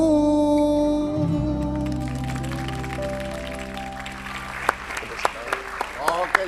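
A studio audience on an Indonesian TV show applauds for a guest named Jess, building from a host talking over music into scattered, sharp claps. Speech runs over the start.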